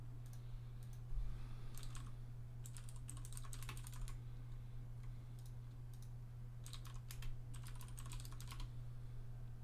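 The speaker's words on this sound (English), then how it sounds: "I have a DOS Keyboard Pro right now." Bursts of fast key clatter from a Das Keyboard Pro mechanical keyboard with blue switches, typed in short clustered runs separated by pauses, heard close over a steady low electrical hum.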